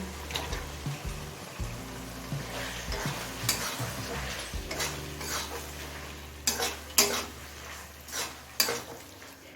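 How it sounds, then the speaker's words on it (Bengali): Chicken being stirred with spices in a pan, a spatula scraping and clattering against the metal over a soft sizzle, with irregular louder scrapes toward the end. "চিকেন দিয়ে মশলার সাথে ভালোভাবে মিশিয়ে নিয়েছি"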